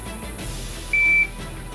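Electronic shot timer at a precision rifle drill gives a single sharp, steady high-pitched beep lasting about a third of a second, standing out clearly above quiet outdoor background.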